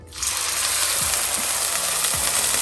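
Marinated chicken thigh dropped into hot sunflower oil in a frying pan bursts into a loud, steady sizzle that holds evenly, with a couple of faint clicks beneath.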